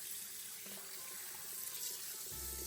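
A kitchen faucet runs steadily for rinsing pork meat before cutting, a continuous hissing splash of tap water, fairly close, with a deeper gush as the flow hits the meat near the end and no voices.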